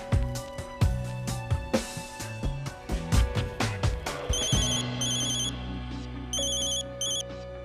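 A telephone rings repeatedly with bright, insistent electronic trills over a musical background, close and loud, with no speech over it.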